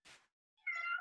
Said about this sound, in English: If you can hear my cat in the background, he's desperate for my attention.